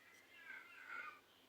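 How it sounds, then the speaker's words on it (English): A cat in heat lets out a faint, drawn-out, wavering meow, rising and falling over about a second against a quiet room. "Sorry, my cat's in heat."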